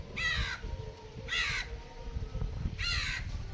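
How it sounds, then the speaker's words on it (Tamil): Crows calling near a beach where fish are being washed: three loud, harsh caw bursts spaced about a second apart, standing out over a low murmur of outdoor background noise. "எப்போ என்னாலும் இந்த காக்கா வந்துடுறான்டா வீடியோ எடுக்கும்போது"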